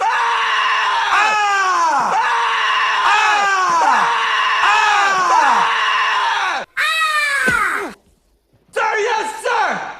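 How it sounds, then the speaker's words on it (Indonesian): A man in a film scene screams at the top of his voice like a killer, a run of loud, drawn-out yells in quick succession, then a brief silence and one more burst. "sersan menyuruhnya untuk teriak sekencang-kencangnya dan perlihatkan ekspresi seorang pembunuh"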